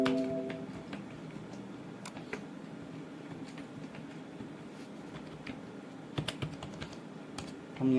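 Computer keyboard typing in Microsoft Word, a steady run of quick plastic key clicks at close range, fairly soft, with a couple of sharper louder taps near the end and no talking over it.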